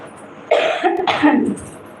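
Two short, rough coughs in quick succession, close and fairly loud, with no talking around them.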